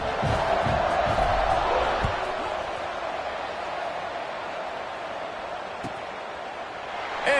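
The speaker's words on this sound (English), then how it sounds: "this crowd is buzzing after that last score" A college football stadium crowd buzzes after a touchdown, a broad, steady roar that is loud at first and then eases to a sustained murmur, with a few distant thuds and shouts.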